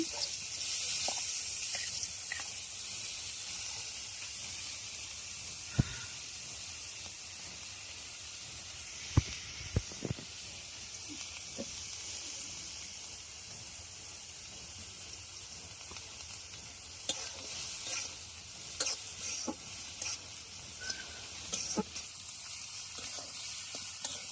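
Chopped onions fry in hot oil in a village kitchen, giving off a continuous close hiss and sizzle with scattered sharp pops and the odd scrape of stirring.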